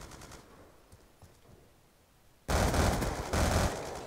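Gunfire in the shooter video game Black Ops 2: after a couple of seconds of quiet, a loud, rapid burst of automatic fire breaks out. It continues in close, dense volleys until the end, with no talking.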